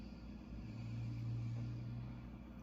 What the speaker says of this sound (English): Oh, it's a car outside.